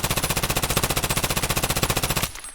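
An MCX rifle in the shooter game Escape From Tarkov fires one long, rapid full-auto burst of evenly spaced, loud, close shots for about two seconds, then cuts off into a short quiet tail.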